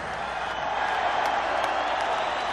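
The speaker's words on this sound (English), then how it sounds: "And now for the sold-out, standing room only crowd in attendance." A sold-out, standing-room-only boxing arena crowd cheers before a big fight, a dense, steady roar of many voices that holds at the same loudness throughout.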